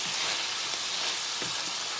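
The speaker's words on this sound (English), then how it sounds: "what we're going to do is just kind of saute the onions and green beans together" Onions and green beans saute in a pan with a steady, bright close sizzle and a couple of soft stirring taps.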